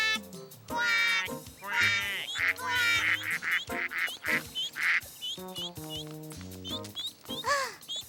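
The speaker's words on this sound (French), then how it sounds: "Celui-là, c'est le papa canard." Cartoon duck quacking, a father duck with colourful plumage, giving several close, bright quacks in bursts, alternating with a narrator's voice and lively children's-show music.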